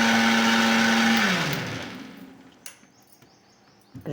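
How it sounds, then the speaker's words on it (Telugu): A mixer grinder whirs loudly as it blends Banganapalli mango with milk, then winds down over a second or two into silence, followed by a few faint clicks and knocks. "నేను ఇది మెత్తగా మిక్సీ పడతాను."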